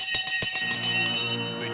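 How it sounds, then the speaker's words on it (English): A stock market opening bell rings with a sharp metallic strike and a lingering, sustained tone that slowly fades, preceded by a few quick clattering hits. "Let's ring the bell"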